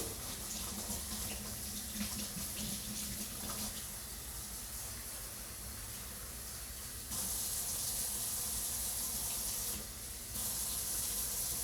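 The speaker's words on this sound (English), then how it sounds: "gonna rinse these off in cold water." Onions being rinsed under cold running tap water in a kitchen sink, a continuous hissing stream that shifts in tone as the flow strikes the onions, alone without talk.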